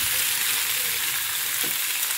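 Mixed masala sautéing in about two tablespoons of hot oil in a pan, a steady close sizzle with faint stirring scrapes, no voices.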